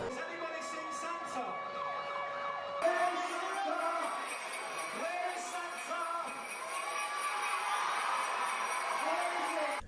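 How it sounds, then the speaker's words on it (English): Police sirens wail in a rising and falling pattern, a shift in tone partway through as another siren joins, the sound continuous and moderately loud with traffic rumble underneath. "I have the fucking police sirens and shit blaring"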